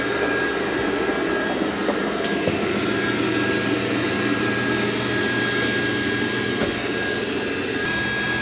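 A Dreame D10 Plus robot vacuum runs on carpet, a steady close droning hum with a constant whine, loud and unbroken throughout, with no talk.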